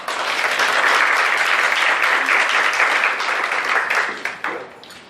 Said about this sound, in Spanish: Le brindamos un fuerte aplauso, por favor